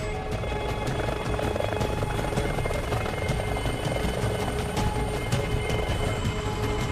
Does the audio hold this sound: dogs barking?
no